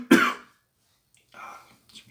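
A single sharp cough up close, followed by silence and then soft, breathy sounds like a throat clearing or a whisper.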